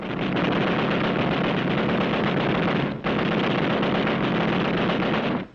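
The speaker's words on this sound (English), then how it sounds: "Then, one of our machine guns opened up." Sustained machine gun fire from a Marine position on Okinawa in 1945, a dense, continuous loud roar of rapid shots running almost unbroken, with one brief dip midway before cutting off.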